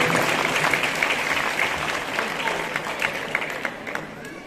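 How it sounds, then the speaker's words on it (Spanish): An audience at a town beauty queen pageant applauds, a thick, steady crowd clapping that starts loud and gradually fades a little over several seconds. "Fuerte el aplauso para ella."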